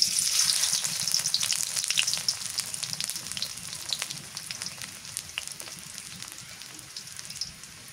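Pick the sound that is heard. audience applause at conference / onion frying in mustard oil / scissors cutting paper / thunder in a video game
onion frying in mustard oil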